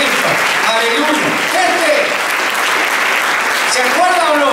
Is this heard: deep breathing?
no